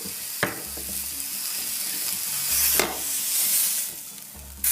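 Lamb browns in a Saladmaster pan, sizzling and frying steadily close by, with a few sharp crackling bursts and brief louder spits as the meat is moved.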